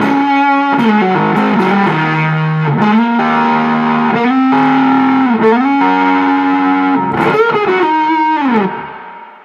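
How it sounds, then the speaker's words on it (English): Thick, saturated electric guitar through a germanium Fuzz Face style pedal, with a fuzzy, woolly distortion, playing sustained notes and bends alone for several seconds before fading out. "It's a germanium Fuzz Face style pedal."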